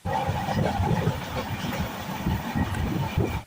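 A train near Coimbatore runs along the track through green countryside, giving a steady rumbling clatter with rhythmic wheel knocks, heard from on board at moderate loudness.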